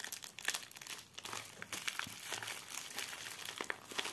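Bubble wrap crinkling and crackling continuously as a package is unwrapped for cross-stitch supplies, close and steady throughout with no speech.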